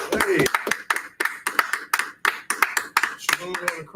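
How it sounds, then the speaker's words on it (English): Crowd at a brotherhood class clapping in a steady rhythmic beat, sharp regular claps repeating about twice a second, with talk over them. "Clap it up, clap it up."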